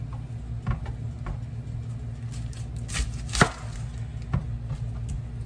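A knife chops vegetables, likely onion or bell pepper, on a cutting board, giving a series of close, sharp, irregular taps over a low steady hum.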